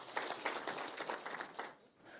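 Applause from an audience at a political gathering introducing National Assembly members, a continuous patter of many hands clapping at moderate volume that fades out after about two seconds.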